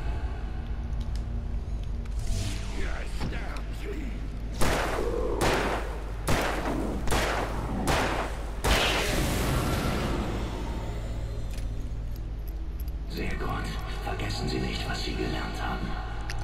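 Gunshots in the Alan Wake video game, a run of about six loud sharp blasts in quick succession over game ambience, followed by quieter humming background.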